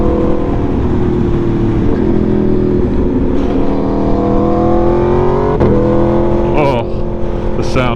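An Aprilia Tuono V4 motorcycle with a 65-degree V4 engine drones steadily and loud while being ridden on a commute, its pitch rising and falling gently through gear changes, with a voice talking over it.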